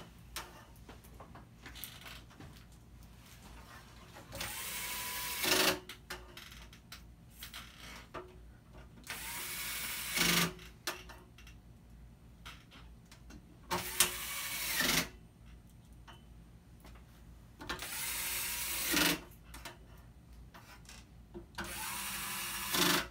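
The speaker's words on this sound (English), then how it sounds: "Go ahead and place your screws back into the unit." Screws being driven back into the housing of an A7K ozone generator, heard as repeated bursts of whirring power-driver noise, about five close, loud runs separated by quieter clicks and handling sounds.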